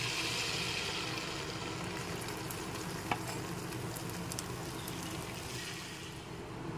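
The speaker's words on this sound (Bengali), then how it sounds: "বাকি মালপোয়াগুলোকে ভেজে নেব" Chhana malpoa frying in hot oil, a steady broadband sizzle that holds evenly throughout, close and fairly quiet, with a single brief clink near the middle and no voices.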